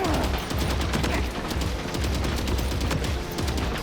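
Assault rifle fire in the video game Death Stranding 2 rattles in rapid bursts of dense, loud shots close by, continuing across the whole moment.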